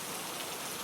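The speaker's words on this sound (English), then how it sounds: "as the rain continues to fall beyond the window" Steady rain falling outside a window, a soft, even patter that holds without pause from start to finish, close and moderately loud with no voices.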